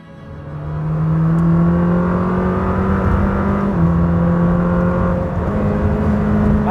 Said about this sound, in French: sur cette Lamborghini Temerario, eh bien, on a ici un V8 4 litres biturbo